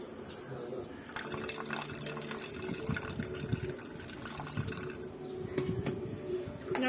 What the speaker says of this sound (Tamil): இப்போ நம்ம இதை இருத்து ஊற்றிக்கலாம்.